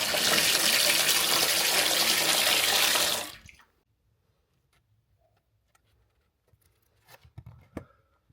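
Water gushes loudly from a tap after a loft tank has been refilled, a steady broadband rush that stops abruptly after about three seconds, leaving near silence broken by faint knocks and clicks.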